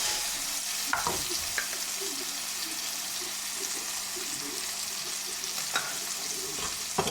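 Pork cheeks dusted with flour frying in a pan for a pork-in-beer dish, a steady low sizzle broken by occasional scraping clinks of a utensil stirring them.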